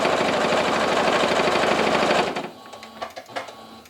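Domestic sewing machine stitching quilt pieces for a Bargello quilt, running steadily and loud for about two seconds, then stopping, leaving a few light clicks and handling noises.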